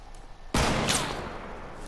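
A single sharp, loud sniper rifle crack in Fortnite cuts through a quiet background, followed by a fading echo and a high whistling tail.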